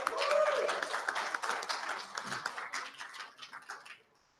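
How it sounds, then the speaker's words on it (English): Audience applause at a Sydney ex-Jehovah's Witness gathering, a dense burst of clapping that starts full and gradually thins out and fades over a few seconds. "Big round of applause, everyone."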